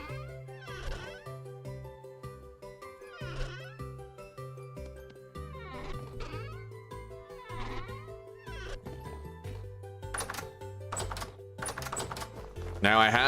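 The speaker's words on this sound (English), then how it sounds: "Now, I have been hearing some goats" Several goat bleats sound at intervals over a looping soundtrack in the survival game Vintage Story, with faint tapping between them.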